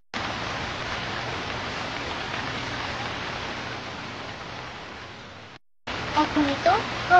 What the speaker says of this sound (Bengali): এখনই তো রোদ ছিল, আবার বৃষ্টি কোথা থেকে এলো?